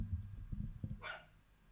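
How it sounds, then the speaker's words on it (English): A pet dog, a female, gives a single bark close by, following a few low thumps and muffled handling noises indoors. "wait for my dog to calm down"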